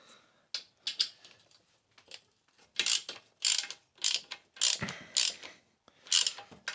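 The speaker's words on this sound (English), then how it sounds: "We're just going to come in and crack our exhaust studs." A 13mm socket on a ratchet loosens the exhaust studs of a CF Moto 450MT motorcycle, with bursts of ratcheting clicks repeating in short strokes, fairly close and clear, with no talking.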